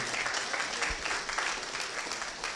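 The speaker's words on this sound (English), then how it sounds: "Let's give her a big round of applause" An audience claps continuously at a portrait unveiling ceremony, a steady dense round of applause throughout without speech.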